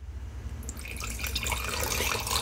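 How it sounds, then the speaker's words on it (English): Little Fat Lamb brewed fruity alcoholic drink being poured, a steady close liquid splash and fizz that grows fuller as the glass fills. "now let's do the pour shot"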